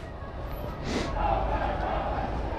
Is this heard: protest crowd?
yes